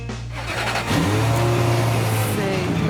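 A 289 Shelby Cobra V8 engine revving in a classic car garage, rising from a low idle into a loud, sustained throaty roar close by, with a voice briefly heard.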